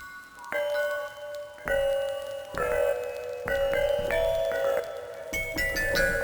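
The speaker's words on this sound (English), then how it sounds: "Let's add a stroke strum." Strummed chord pattern from the Scalar plugin played through Native Instruments Maschine, sounding as a sequence of sustained synthetic chords changing roughly every second, clear and alone with no talking.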